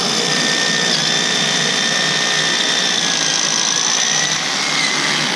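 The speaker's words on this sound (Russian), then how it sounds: "это металл, он в любом случае просверлится" A drill bores through reinforced concrete into steel rebar, a loud, steady, high-pitched whine and grind sustained close by without a break.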